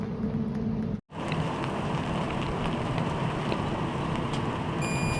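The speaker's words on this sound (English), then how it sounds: "It's actually started to rain now" Steady rain falling outdoors around a Traeger Ranger grill during a cook, a dense close hiss of drops that cuts out for an instant near the start, then continues without talk.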